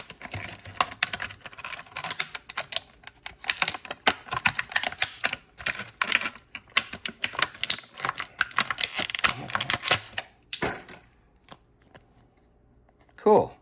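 Toy packaging for a Marvel Legends Death's Head figure torn open by hand, with rapid crinkling, ripping and rustling bursts, close and fairly loud, ending with a brief voice.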